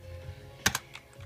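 Two or three quick key clacks on a computer keyboard at a desk, close and fairly quiet, over a faint background hum with no talking.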